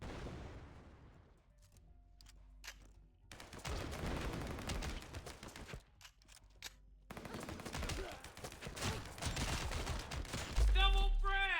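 Gunfire in a battle royale video game: bursts of rapid automatic shots in distant and nearer volleys, separated by brief quiet gaps, with a loud thump near the end.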